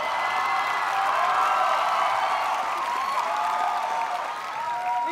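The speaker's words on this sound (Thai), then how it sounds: "กรี๊ดได้ปรบมือได้" A Thai game-show studio audience screaming and applauding, a loud sustained wash of high-pitched shrieks and cheering over dense clapping, filling the entire stretch without pause.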